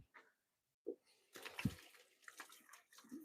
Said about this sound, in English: Let me give my hands a quick rinse.